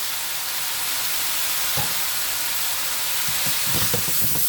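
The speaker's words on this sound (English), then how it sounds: "So I'm just going to stir that around" Turkey and oyster sauce sizzling in a pan, a loud continuous hiss with intermittent scraping knocks as a utensil stirs the meat.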